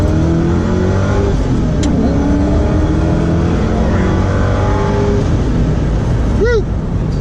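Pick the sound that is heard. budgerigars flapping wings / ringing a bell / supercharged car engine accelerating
supercharged car engine accelerating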